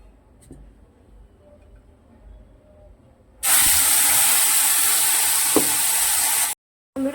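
Onion, tomato, ginger, garlic and green chilli drop into hot oil with a sudden loud, bright sizzle that hisses steadily for about three seconds after a quiet lead-in, then cuts off briefly.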